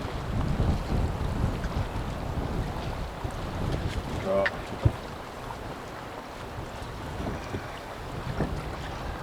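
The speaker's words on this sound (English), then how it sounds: "this wind hasn't died down today at all" Strong wind gusts across a lake on a cold day of fishing, a constant, loud, rushing roar that fills the clip with buffeting against the microphone and no clear pauses.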